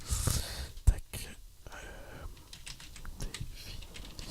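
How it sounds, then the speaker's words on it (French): Keys tapping on a computer keyboard in a quiet, close ASMR setting, with a few sharp clicks and soft scattered strokes between faint whispered speech. "ça fera un petit peu de tapping avec un peu de clavier qui fait du bruit"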